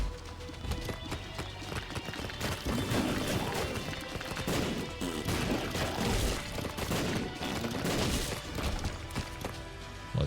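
Bombs explode repeatedly in The Binding of Isaac, the video game. Dense bursts and crashing impacts keep going over a busy game soundtrack, without any break.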